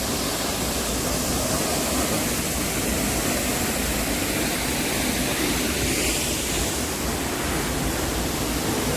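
Continuous broadband rushing of Soochipara Falls, a 220-metre waterfall in Wayanad, loud and constant, a faint higher whoosh swelling briefly in the middle; no one speaks.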